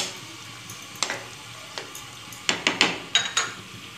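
Cooked chicken and ketchup being stirred in a frying pan for creamy chicken tikka macaroni: a soft background sizzle with irregular utensil scrapes and clinks, clustered more densely toward the end.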